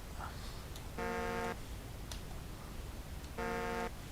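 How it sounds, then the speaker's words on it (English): Truck air horn in the Farming Simulator 2015 video game, two sustained blasts roughly two seconds apart, each about half a second long, standing out over faint background noise. "that adds the air horns"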